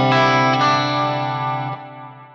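A clean electric guitar chord through a Fractal amp-modeling setup with delay rings out loud and sustained, then fades gradually with the echo trailing away.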